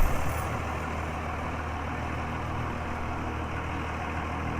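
An old car with no doors, fenders, hood, bumpers or windshield, its engine run for the first time in a long while, rumbles steadily and low as it pulls away, loud and continuous with no talk.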